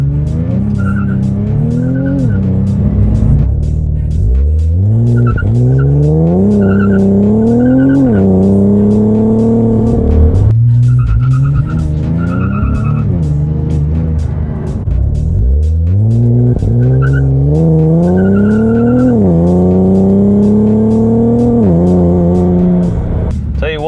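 Infiniti Q50/Q60 launching hard from a dig with wheel hop and a rear differential brace fitted, loud engine revs climbing through repeated gear pulls, with tire squeal and rapid juddering thumps throughout, heard close up.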